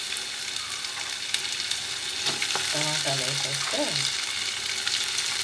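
Chopped tomatoes sizzle and fry in a pan for a dried fish curry, a steady close hiss running under brief speech.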